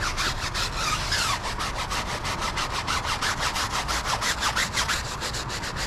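Brush scrubbing a car tire clean with suds, a rapid rhythmic back-and-forth rasp of about five strokes per second, close and steady throughout.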